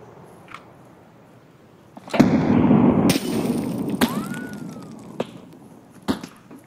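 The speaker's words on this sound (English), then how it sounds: "I'm going to pop a nade." A grenade goes off in the game Escape from Tarkov: a sharp burst followed by a loud roaring wash of debris and noise, with a few more sharp cracks and a falling whine as it fades.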